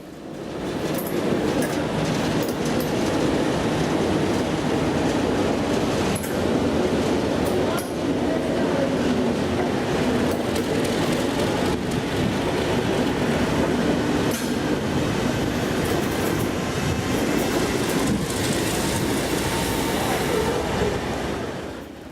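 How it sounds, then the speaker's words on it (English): Diesel locomotives rumble steadily past along a passenger train with clattering wheels and occasional metallic squeals, loud and continuous throughout. "The diesel locos are now seen making their way to the front of the train"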